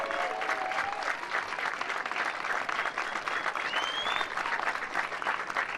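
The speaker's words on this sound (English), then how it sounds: "So a round of applause for the staff and everybody" Steady, full applause from an audience at a junior fife and drum camp, thanking the staff, continuous and even throughout with faint whistle-like tones above the clapping.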